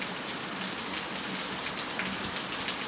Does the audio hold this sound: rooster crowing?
no